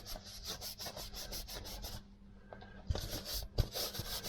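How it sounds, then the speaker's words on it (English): A cloth rubs inside and out over a dusty Vespa PX scooter engine cowling, making rapid close rhythmic scrubbing strokes. The strokes pause briefly midway and pick up again with a couple of light knocks. "I'm just going to give the cowling a rub down inside and out"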